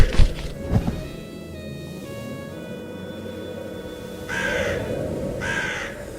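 Two loud crow caws toward the end, harsh and close, after a couple of thumps and a steady hum in the background.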